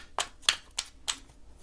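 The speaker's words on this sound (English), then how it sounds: "Y'all might have to fast forward through the shuffling" Tarot cards being shuffled by hand, heard as four separate crisp riffling bursts spaced about a third of a second apart, close and fairly quiet with no talking.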